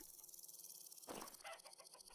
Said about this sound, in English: That chicken scared me.